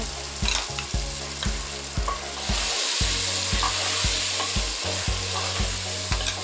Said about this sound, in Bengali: সাম্বারের জন্য তৈরি মশলার পেস্ট দিয়ে একটু কষে নেব